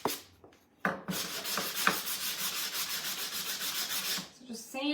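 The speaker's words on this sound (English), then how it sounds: "Sand the excess paint off the sides, and then we're going to do the same thing on our strawberries." Sandpaper scrubs excess paint off the edges of a painted wooden strawberry craft in rapid back-and-forth strokes, a loud, close and steady rasp lasting several seconds.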